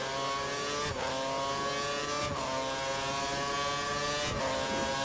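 An F1 race car engine in F1 2013 screams continuously at high revs, with quick upshift dips roughly every second and a half, loud and close with no voices.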